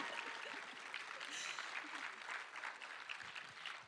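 An audience at a school awards show claps steadily, a dense and continuous wash of applause that holds at an even level throughout, with a hint of voices underneath.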